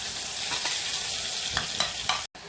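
Ground masala stir-fried in hot oil in a pan while cooking a village-style okra dish, a steady loud sizzle with a few scraping stirs of a spoon, close by and without speech.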